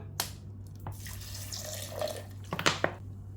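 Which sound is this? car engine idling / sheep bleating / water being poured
water being poured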